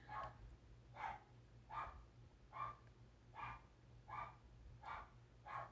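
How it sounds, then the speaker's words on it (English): A dog barks in a steady series of about seven evenly spaced, moderately loud barks over a constant low background hum. "barking like mad"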